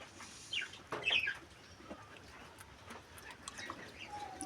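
Caged lutino red-eye budgerigars, one sitting on eggs, giving a few faint, short chirps early on, then a quiet background with occasional soft twitters.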